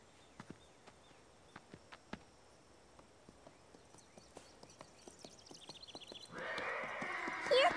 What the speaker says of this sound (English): The sound of the horse startled Caillou.